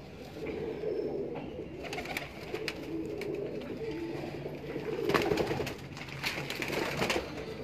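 Female Mian Sahib pigeons keep up a continuous low cooing close at hand, mixed with intermittent rustling and flapping bursts.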